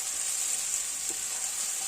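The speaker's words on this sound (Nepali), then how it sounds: "अदुवा लसुनको पेस्ट 1 चम्चा, फ्राई गर्नुपर्छ एकैछिन मसलालाई।" Ginger garlic paste and spices frying in a pan for a potato and fenugreek dish, giving a steady, even sizzle that runs unbroken and fairly loud for the whole stretch with no voices.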